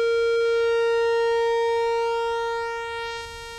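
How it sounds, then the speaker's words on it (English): Synthesizer square wave held as a steady buzzy tone while its pulse-width knob is turned, the timbre gradually thinning and the level easing down toward the end, with no talking. "on a synthesizer where you have a knob that says pulse width, if you are just hearing the square wave, you can take that knob and turn it and hear the difference in the timbre"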